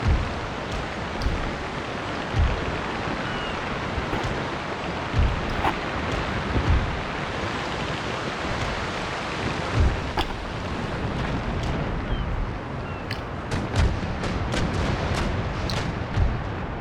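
Naval cannon fire in a sea battle in Empire Total War, a steady rumbling barrage of distant booms with sharper reports scattered throughout, continuous and fairly loud with no talking.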